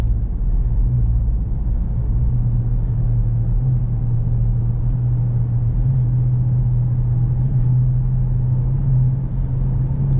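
A 2022 Dodge Charger R/T with the 5.7 engine cruises down the street, giving a loud, steady low engine rumble and road drone that holds throughout without change.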